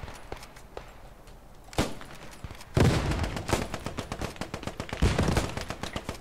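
Gunfire in the Second World War shooter Post Scriptum, a few scattered distant shots followed by a loud close burst of rapid machine-gun fire and further volleys, with no talking.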